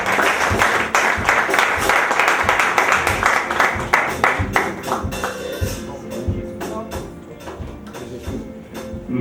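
Clapping from a church congregation welcoming a woman pastor, dense rhythmic applause near and loud, thinning into scattered claps toward the end.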